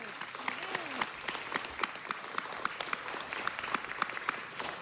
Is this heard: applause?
yes